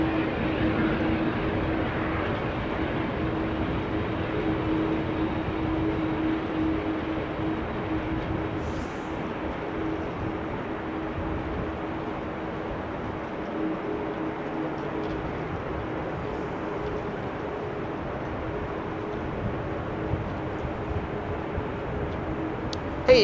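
A business jet taxis toward runway 04 at Amsterdam Schiphol on a showery day, a steady low engine hum and rumble holding evenly throughout, moderately distant and alone.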